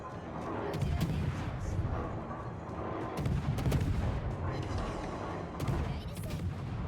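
Naval guns firing salvos at an enemy ship in World of Warships, from the French cruiser Marceau: heavy booming shots land in several bursts over a continuous rumbling battle din, loud and close.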